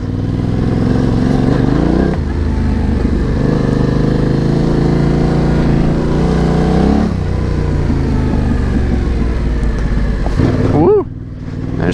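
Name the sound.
Yamaha Tenere 700 motorcycle riding on red gravel trail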